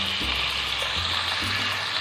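Two chopped onions frying in a pan for a vegetable sambar, a soft continuous sizzle at low volume with faint stirring bumps underneath.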